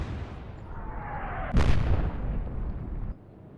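A battleship's deck guns fire in the naval video game Atlantic Fleet: one heavy boom lands mid-clip over a steady low rumble, and a thin descending whistle comes just before it.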